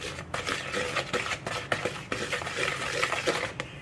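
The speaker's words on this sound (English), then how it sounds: "You just want to mix until it's pretty fluffy" Pumpkin sugar cookie dough is mixed in a bowl with rhythmic scraping, knocking and clattering of the utensil against the sides, close and steady, with no talking.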